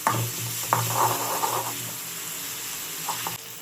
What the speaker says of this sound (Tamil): எண்ணெய் போட்டு வெங்காயத்தை மட்டும் போட்டு வதக்கிட்டுருக்கேன்